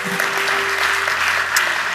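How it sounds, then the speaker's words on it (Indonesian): A church congregation claps and applauds during a sermon, a dense steady burst of hand claps filling the room for a couple of seconds. "Yang mau kasih tepuk tangan buat Yesus Kristus"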